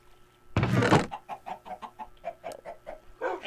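Minecraft chicken clucks in a quick, even series of short, close clucks, after a loud burst of rustling noise.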